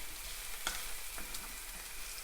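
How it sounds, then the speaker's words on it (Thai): Purple eggplant stir-fried in a pan with oyster sauce gives a soft, steady sizzle, faint and even, with a couple of brief scraping clicks from stirring. "ผัดมะเขือม่วงค่ะ"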